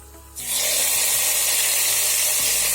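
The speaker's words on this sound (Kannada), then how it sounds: "ಇವಾಗ ಒಗ್ಗರಣೆ ಹಾಕ್ತಿದ್ದೀನಿ" Tempering for vegetable sambar, with garlic and curry leaves, hits hot oil. After a quiet start it bursts into a loud, steady sizzling hiss that keeps going close by.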